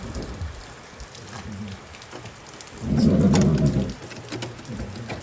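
Rain falls outdoors in the mountains where horses are kept, a steady hiss of drops that swells into a heavier, louder burst midway, then eases back.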